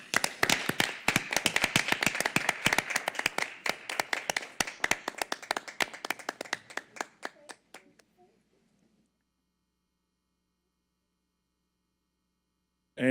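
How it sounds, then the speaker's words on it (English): A small audience at a school board meeting claps for Commissioner Gore, a steady patter of hands for about six seconds that thins into scattered claps and stops, followed by silence. "Hopefully we can begin a round of applause for you."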